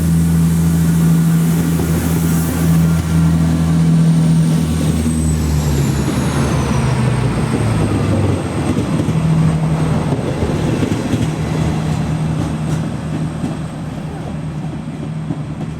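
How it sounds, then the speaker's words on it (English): A diesel train departs Bobadilla for Seville: loud rumbling engine with a low droning tone that shifts in pitch as it pulls away, mechanical clatter and rail noise throughout. "here we go on this diesel haul thing off to Seville"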